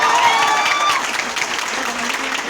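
Students in a coaching classroom burst into close, lively clapping that fades somewhat after the first second. A few voices are mixed in.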